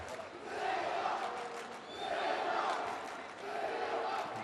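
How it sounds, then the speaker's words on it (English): Crowd at a World Series of Boxing match between Turkey Conquerors and China Dragons shouting and chanting in rhythmic swells, loud waves rising and falling roughly every two seconds. "the crowd are shouting"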